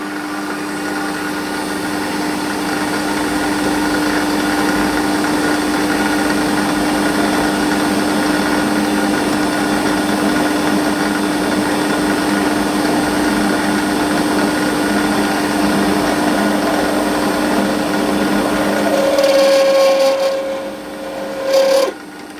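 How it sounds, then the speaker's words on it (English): A lathe center-drills the end of a model steam engine chimney, a steady close grinding rasp with motor hum and a faint tonal whine, continuing evenly before winding down near the end; no talking. "just center drill the end so that I can use a live center to support that end"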